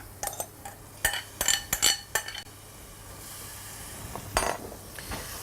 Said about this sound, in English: we're going to pop the coconut oil in there, and then we're going to add first of all the onions